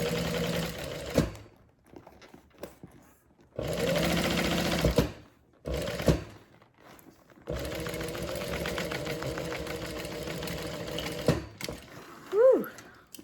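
A sewing machine stitches the Alaine handbag in several bursts: a short run, a longer one, a brief one, then a long steady stretch. Each run hums loudly and close, with short quiet pauses between them.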